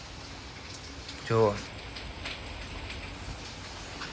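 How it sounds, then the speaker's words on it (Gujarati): Heavy rain falls outside in a steady close patter of drops, and a voice speaks briefly over it once. "એટલો વરસાદ આવે છે"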